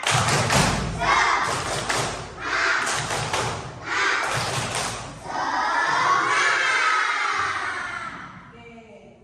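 A classroom of children claps in a loud rhythmic pattern at a teacher's call, bursts of clapping in sets with shouting voices, ending in a sustained cheer.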